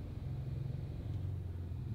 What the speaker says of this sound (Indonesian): ini tuh hari Sabtu, macet banget jalanannya.